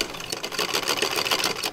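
A sewing machine stitches a curtain fitted with magnets for a skoolie window screen, its rapid needle chatter running close and steady for a couple of seconds with no talk.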